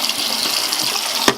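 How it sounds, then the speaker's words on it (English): A sink tap turned on to medium, water running steadily with a broadband hiss throughout, close and fairly loud, with a brief louder splash near the end. "I'm gonna turn the water on about medium"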